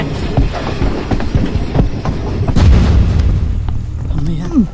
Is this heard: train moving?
yes